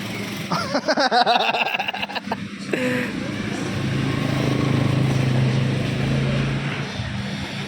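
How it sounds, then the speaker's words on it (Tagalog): A Kawasaki Barako motorcycle runs at a steady, quiet idle after a camshaft conversion. The low, even hum follows some clattering handling noise at the start, with brief talk nearby. "Tahimik na makina mo."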